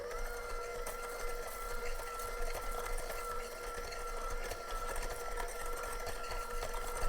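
Quarter cups of butter and sugar are creamed for edible cookie dough with a mixer, giving a continuous, even motor whine and whir at steady volume throughout, with no talking.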